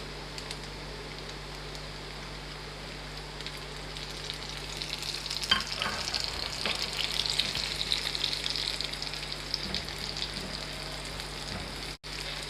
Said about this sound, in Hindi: थोड़ी देर हम प्याज को फ्राई करेंगे, सिर्फ 2 मिनट के लिए